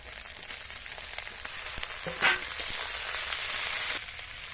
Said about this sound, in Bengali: পেঁয়াজটা হালকা একটু ভেজে নিয়েছি, এবার দিয়ে দেবো আদা বাটা, টমেটো কুচি